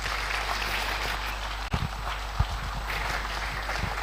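Dense, continuous applause from a financial inclusion conference audience after a panel session, steady and broad with a couple of louder thumps near the microphone.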